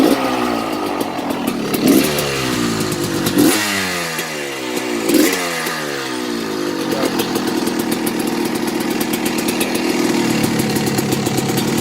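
A 2000 Honda CR80 big-wheel dirt bike fitted with a 1988 CR250 two-stroke motor sputters through a few kick attempts, then catches and settles into a loud, raspy, uneven idle close by.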